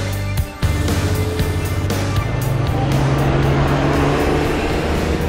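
A V12 engine runs loud and close, with a dense continuous roar and a sharp throttle blip near the start. Its pitch then climbs gradually as it revs higher.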